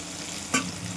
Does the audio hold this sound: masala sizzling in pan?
yes